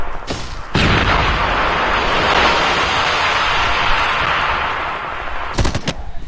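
Heavy gunfire in Call of Duty Mobile during an esports match, with a sharp blast opening into a long, dense roar of sustained firing and a few crisp shots near the end, loud and with no voices.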